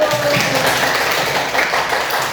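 A classroom of students in an Indonesian teacher-training session applauds together, giving dense, steady hand clapping that stays loud and close from start to finish.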